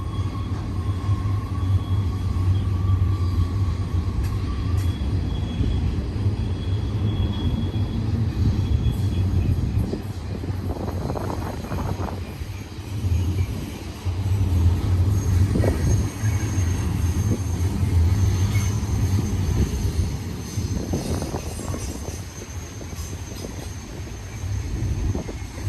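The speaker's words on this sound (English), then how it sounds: "See the front of the train way down there going back to the right." A westbound BNSF freight train with Dash 9 locomotives passes at Sullivan's Curve, heard as a steady low rumble and rolling wheel noise lasting throughout, moderately distant, with occasional squeals and no talk.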